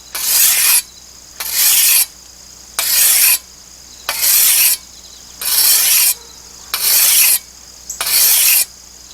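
A rusty metal weeding tool blade is rasped across a rock to sharpen it, eight even, scraping strokes in a steady rhythm with short pauses between, close and loud with no talk.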